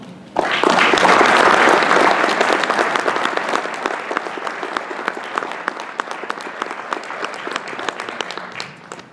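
Audience applause at the 2016 ITEEA conference welcoming keynote speaker Andre Thornton, a dense, sustained crowd clapping that swells quickly and slowly thins over several seconds.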